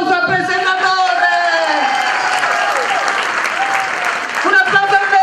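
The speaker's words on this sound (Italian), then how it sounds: "un applauso al presentatore!" Applause for the presenter at a birthday party, a steady burst of clapping from a crowd lasting throughout, with cheering voices and shouted talk layered over it.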